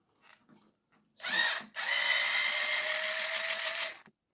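Power drill backing screws out of an RC car, a few light clicks and handling noises, then a short whirring burst, a brief pause and a longer steady high-pitched run, close and loud, no talking.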